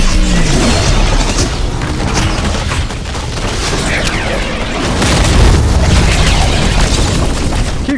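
Dense, continuous gunfire and booming explosions from the Fortnite video game fill the whole stretch, loud and relentless with overlapping blasts and shots.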